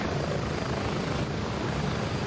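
A helicopter flies in the video game Gray Zone Warfare, its loud, steady rotor and engine drone heard from close by, as if from inside, unbroken and without talk.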